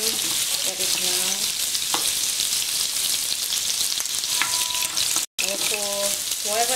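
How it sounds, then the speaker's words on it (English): Onions fry in hot oil for a Nigerian meat pie filling, with a loud, continuous close sizzle and occasional stirring scrapes. A very brief silent gap cuts in near the end, then the hiss resumes. "Before you put in the onion, I already have the oil on the fryer, by the way. Fry that down."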